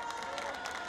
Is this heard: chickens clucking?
no